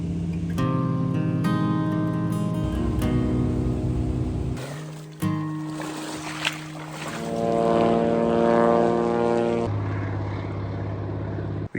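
A propeller airplane flying over the Alaska backcountry drones steadily and loudly for the whole stretch, its engine tone shifting pitch several times as it passes, with no talk.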